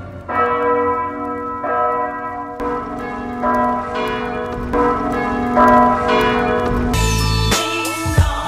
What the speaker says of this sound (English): Those damn bells.